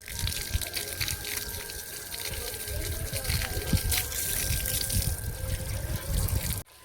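Water splashes and hisses steadily across a dusty rooftop being washed down before waterproofing, close and continuous, with occasional voices underneath, then stops abruptly.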